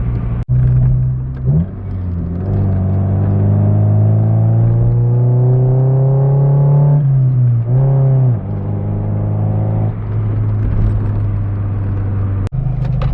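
A Honda Del Sol engine drones from inside the cabin, revving up smoothly through a gear before shifting and settling back into a steady hum.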